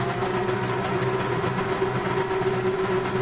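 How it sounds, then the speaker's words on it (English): Porsche 911 RSR race cars in a racing game, engines held at steady high revs on the grid at the Interlagos start, a loud, even, sustained drone with a constant tonal whine. "The revs rise."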